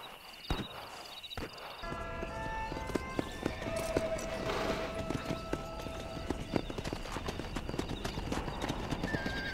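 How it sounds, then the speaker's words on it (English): Horse hooves clip-clopping at a gallop with a neigh, from the video game Red Dead Redemption, a steady close rhythm running the whole time over layered game ambience and tonal music. "God dang, ek naya ghoda."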